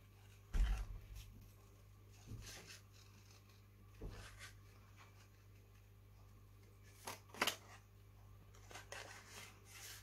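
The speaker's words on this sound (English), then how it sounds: "I'm just gonna cut her out as close as I can to the line." Scissors cutting out a paper figure for a handmade birthday card, quiet and close, with a few sparse snips and rustles separated by long pauses.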